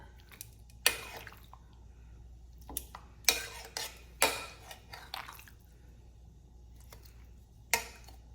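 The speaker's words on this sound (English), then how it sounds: "now we're just going to transfer the chicken from this bowl to the pot" Wet squishing and scraping as enchilada chicken filling is moved from a bowl into a pot, with occasional clinks of a utensil against the bowl or pot, close and intermittent.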